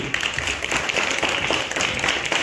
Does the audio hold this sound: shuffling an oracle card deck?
no